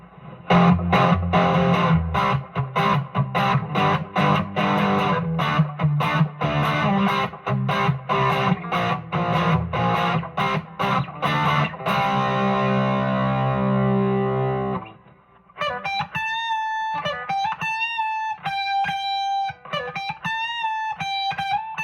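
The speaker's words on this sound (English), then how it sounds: "Through the AC-10 and a JHS Angry Charlie distortion pedal, starting the bridge position." A Squier Classic Vibe '60s Stratocaster through a JHS Angry Charlie distortion pedal and AC-10 amp: heavily distorted chords strummed in a steady driving rhythm from the bridge pickup, then a lighter, cleaner melodic line with sustained notes, loud and close.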